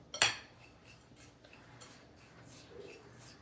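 A spoon stirs a thick chocolate peanut butter pie crust mixture in a bowl, opening with one sharp clink, then soft, intermittent scraping taps; close and quiet, no talking.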